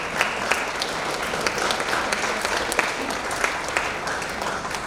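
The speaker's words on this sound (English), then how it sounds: "can we give ourselves a round of applause?" A large gathering of students and faculty at a distinguished lecture applauds themselves, dense continuous clapping with scattered sharper claps standing out, no talk over it.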